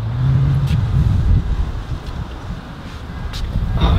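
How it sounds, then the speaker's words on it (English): A loud aftermarket exhaust on a modified Honda rumbles close by with a deep, throaty drone that swells and eases slightly, with some wind buffeting the microphone. "I really, really hate this exhaust because it's so loud and obnoxious sometimes."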